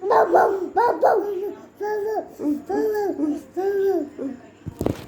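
A voice imitates a dog barking, repeating a string of short, yappy 'woof' sounds in quick succession, close and fairly loud.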